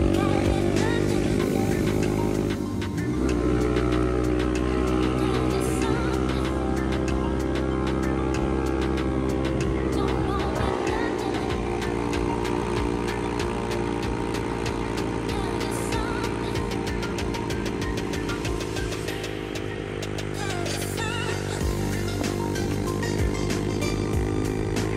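A Kaisar Ruby V-250 motorcycle climbs the steep Cangar road in Indonesia, its engine droning loud and close for the whole ride, the pitch easing and rising again with throttle and gear changes, wind noise rushing over it.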